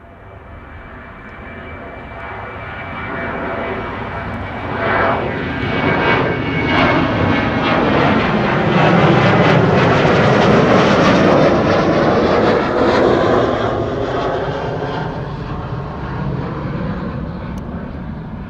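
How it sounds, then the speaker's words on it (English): A KLM Boeing 737-800 departing Amsterdam Schiphol for Stockholm produces a loud jet roar that swells to a peak midway through and then slowly recedes as the aircraft climbs away. "This is KLM flight 1219 going to Stockholm."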